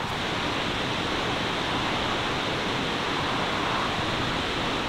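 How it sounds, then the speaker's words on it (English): Small waterfall near an overgrown viaduct in Scotland, a constant broadband rush of falling water, steady and unbroken for about five seconds with no voices. "And there's also a little waterfall over here, which you can kind of see through the trees."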